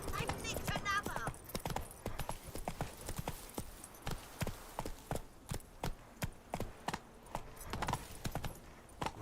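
Roach, a horse in The Witcher 3, gallops with a steady run of sharp hoof clip-clops, loud and close, briefly overlapped by a whinny-like sound at the start.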